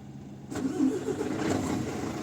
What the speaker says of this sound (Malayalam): വണ്ടി സ്റ്റാർട്ടായി കൊള്ളാം